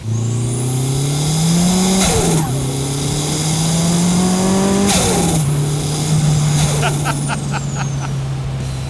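A loud, close turbocharged Nissan RB engine in a Datsun 240Z revs hard through rising gear pulls, pitch climbing then dropping at each shift, with a whistling whine and hiss between gears.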